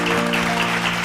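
A congregation at a late-night Tamil Bible study claps together, a dense steady patter of hands under a sustained humming tone, continuous and fairly loud.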